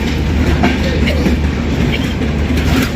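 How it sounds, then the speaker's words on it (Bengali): A long train on the Drutojan Express route near Setabganj rolls past with a loud continuous rumble and rhythmic clickety-clack of wheels, close and sustained throughout. "এই দেখেন ট্রেন চলে যাচ্ছে।"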